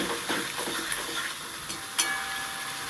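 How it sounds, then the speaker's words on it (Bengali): Spice paste stirred and frying in a pan for a Bengali jackfruit curry, with a steady soft sizzle and light scraping. Faint spoon clicks on the pan come through occasionally. "এবার নেড়ে চেড়ে ভালো করে কষিয়ে নেব।"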